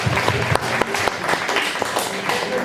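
An audience at a student information session claps loudly and steadily for a few seconds, a dense crowd applause with no voices rising above it.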